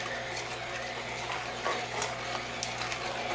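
An Omega Big Mouth or Vert VRT330 slow juicer grinds watermelon, giving a low steady motor hum with soft crunching and clicking from the auger, close and continuous, with no talk.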